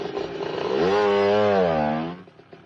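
A motorcycle engine revs up and holds a loud, rising drone for about a second before cutting off abruptly, close by.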